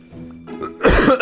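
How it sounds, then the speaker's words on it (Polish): A person clears their throat and then coughs hard a couple of times, close and loud, after a short quiet stretch. "mnie kaszel męczy"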